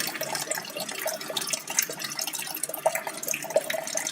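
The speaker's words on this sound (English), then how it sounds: "drain all the radiator water" Water drains from the radiator of a Tata Nano car, trickling and splashing steadily with irregular drips, moderately close and continuous throughout.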